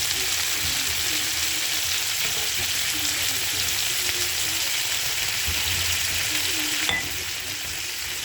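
Shrimp frying in a pan with butter and spices, a loud, continuous hiss and crackle of sizzling that holds steady throughout, easing slightly near the end.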